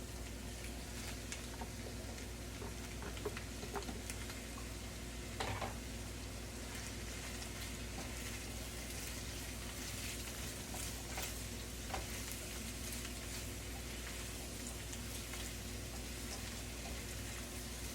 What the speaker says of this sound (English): Take this pork belly, and we're going to mix this in with the vegetables.